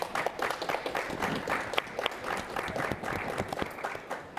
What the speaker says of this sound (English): if you'll join me in a round of applause for our speakers